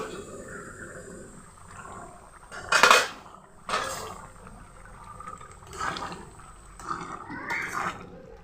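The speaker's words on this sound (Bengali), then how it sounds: "ঢাকনা তুলে নিচ্ছি" A lid lifted off a pot of simmering ghugni gives a sharp metallic clink near the middle, then several softer knocks and scrapes of the lid and pot, close by in a quiet kitchen.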